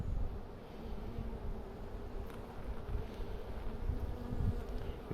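Honey bees from a swarm trap colony buzz steadily inside their hive, a dense, continuous drone held close and even throughout.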